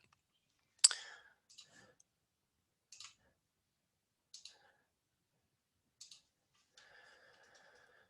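Mouse button clicks at a CAD workstation, a sharp louder click followed by several quieter pairs of clicks spaced about a second apart, close and clean, with faint soft rustle near the end.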